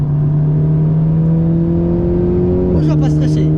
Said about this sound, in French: On ouvre le volant, on accélère.